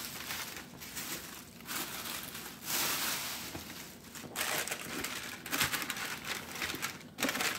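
Wrapping paper crinkles and rustles as individually wrapped Travis Scott Air Jordan 1 sneakers are unwrapped, continuous close crackling that swells in bursts.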